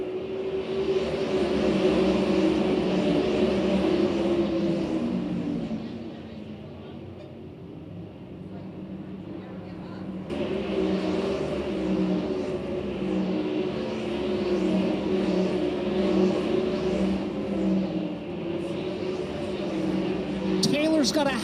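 A pack of 410 sprint cars races at Williams Grove Speedway, their engines a loud, sustained roar that swells and dips as cars pass and accelerate, while an announcer talks over the noise.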